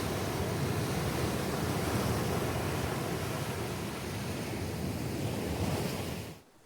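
Surf rolls onto the sandy shore of Salema Beach in the Algarve, a continuous loud wash of breaking waves and hiss that fills the whole stretch, then cuts off abruptly at the end with no voices.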